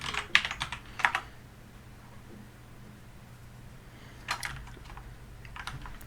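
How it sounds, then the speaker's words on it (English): Computer keyboard typing in two short bursts of rapid, close clicking, separated by a few seconds of quiet room tone. "I'm actually editing out the keyboard noise so you won't hear it"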